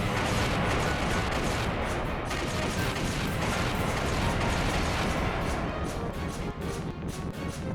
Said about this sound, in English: I like how they had this like laser charge up and then shot a missile